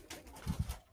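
A pigeon in a home loft coos close by, giving a short run of two or three low, soft pulses in a brief, quiet moment.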